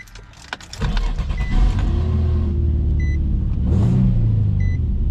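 A car engine with a repaired throttle body starts and climbs to a loud, high rev, holding near full RPM with a brief surge near the end and a few short beeps.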